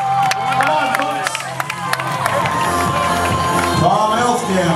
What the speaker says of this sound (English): Let's give them a big round of applause as they come across the Manitoba Marathon finish line.